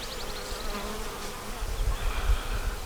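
A big swarm of bees buzzes in a dense, continuous drone, close and steady, with some low rumbling handling noise partway through.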